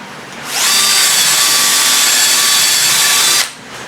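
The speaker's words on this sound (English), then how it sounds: "now I'm just going to put the holes through here, ready for screwing down the top" A power drill bores angled screw holes into a wooden laundry tabletop, a single steady whine held for about three seconds, loud and close, with no talk.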